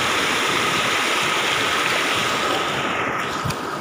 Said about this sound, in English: This is very powerful river,